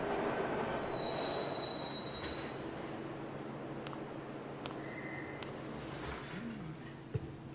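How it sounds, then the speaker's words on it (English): A video game train rolls past with metallic wheel squeal and rail rumble, a continuous loud wash with faint clicks and a brief high screech, no talking. "Ah, train"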